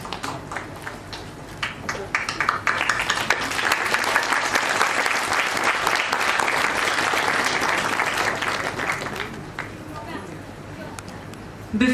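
A hall audience at a university Teachers Day celebration gives a sustained round of applause, dense clapping that swells in the middle, then thins toward the end.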